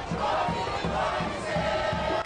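A crowd gathered in the Grenville car park for the Prime Minister's Thanksgiving rally chants in a rhythmic, repeated cadence, loud and close, with several beats of massed voices.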